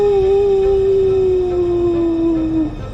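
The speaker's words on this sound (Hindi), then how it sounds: "बारामदे के नीचे कुत्ता सिर उठाकर रो पड़ा था।" A dog lets out one long, loud, wavering howl that slowly sinks in pitch, sustained for nearly three seconds against a low background hum, with no talking.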